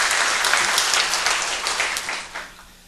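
Congregation applauding during a Friday church worship service after a praise performance by a visiting church choir, a dense, steady wash of many hands clapping that gradually fades toward the end.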